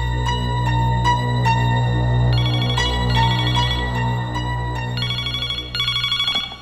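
A telephone rings repeatedly at a steady, loud level, its bright electronic tone sounding over a low constant hum in an indoor scene.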